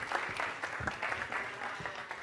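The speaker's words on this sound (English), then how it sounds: "Can I get a round of applause for Peter?" A small audience at a competition finale claps for a presenter, a brief, fairly quiet patter of hands with scattered individual claps standing out.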